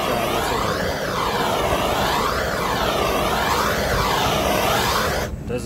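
A MAPP gas torch roars continuously while heating a walk-in cooler's refrigerant receiver, a loud steady hissing flame with slow wavering swells, cutting off just before the end.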